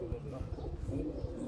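A Kamagar pigeon coos softly at close range in a few low rounded pulses, partly under someone speaking nearby.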